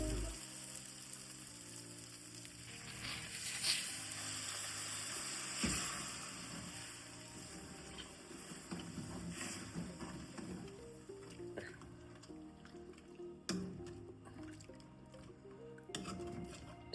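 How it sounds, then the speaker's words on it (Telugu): Water poured into ragi java batter while cooking, a faint trickling and dripping with soft liquid splashes, quiet and close over a low background of steady tones, no voices. "యాడ్ చేసుకున్న తర్వాత కన్సిస్టెన్సీ కోసం వాటర్ యాడ్ చేసుకుంటాం."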